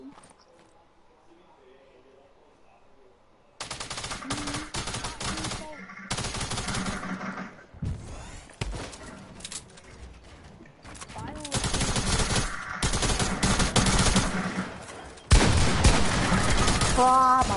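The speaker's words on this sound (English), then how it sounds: "I can't see where I'm shooting." Rapid automatic gunfire in Fortnite, bursts of loud shots coming in stretches with short gaps, layered with talking voices throughout.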